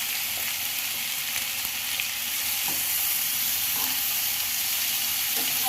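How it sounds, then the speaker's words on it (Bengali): Drumstick (moringa) pieces and vegetables fry in hot oil as half a spoon of turmeric powder is added, giving a steady, close sizzle with occasional light stirring clicks throughout. "এবার তেলে এক সাইডটা ফাঁকা করে হলুদ গুঁড়ো দিয়ে দিলাম হাফ চামচে।"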